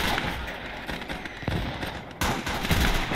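Rapid bursts of machine gun fire with booming blasts in the WWII strategy game Gates of Hell: Ostfront, a dense, continuous crackle of shots that jumps louder partway through, with no talk.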